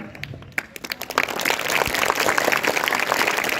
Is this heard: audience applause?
yes